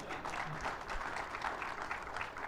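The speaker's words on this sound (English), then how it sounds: "I got somebody started clapping." Faint scattered clapping from an audience at a US Soccer presidential candidate forum, quiet and distant, a few hands rather than full applause, with no talk during it.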